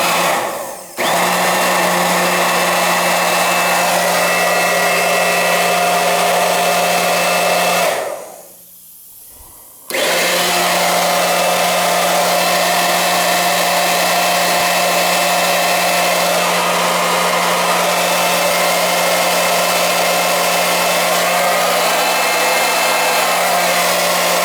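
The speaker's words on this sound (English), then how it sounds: "I'm gonna pump it back in with my pump" A pump pushes glycol back into a heating system, droning loud and steady with a constant whine, cutting out briefly for about two seconds midway before restarting at full level, with no talking.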